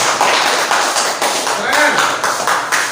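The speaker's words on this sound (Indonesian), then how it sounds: "tepuk tangan untuk kelompok 2" Classroom group applaud a student team's class presentation, a steady patter of hand claps and taps under ongoing talk from the teacher.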